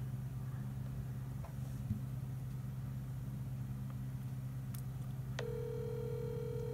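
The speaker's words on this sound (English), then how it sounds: "Now I'm gonna call his cell phone." An outgoing call to a cell phone sits under a constant low engine-like hum, then a steady electronic ringback tone starts near the end and holds.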